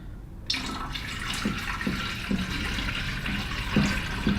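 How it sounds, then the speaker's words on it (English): Liquid poured into water in a small indoor garden setting, a soft steady splashing trickle with a few faint gurgles, quiet and close. "So we're going to pour this in here."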